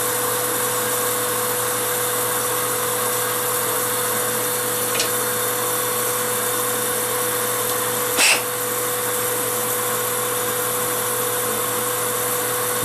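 A steady, loud power-tool whir while a wooden pen blank is lightly sanded, constant broadband noise throughout with one brief scraping burst near the end and no talking.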